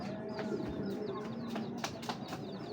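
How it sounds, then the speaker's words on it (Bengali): A large male pouter pigeon coos softly at close range, low throaty notes under faint shuffling and light clicks, with other birds chirping faintly in the background. "এটা একটা নর কবুতর।"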